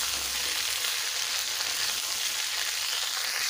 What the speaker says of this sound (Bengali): ঝিঙ্গেগুলো ভালোভাবে ভেজে নেব।